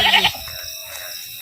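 Goat bleating in a village setting, one short loud bleat at the start, then quieter background noise.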